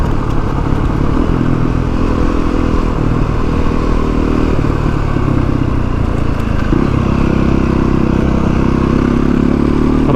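Beta 480 ADV motorcycle cruising along a bush track, its single-cylinder engine droning loud and close, shifting pitch as the throttle changes, with rattling and crackle from the rough ground.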